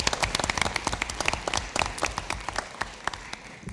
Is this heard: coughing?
no